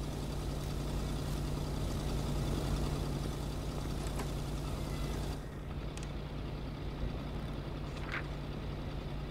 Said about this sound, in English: God, this car is so loud.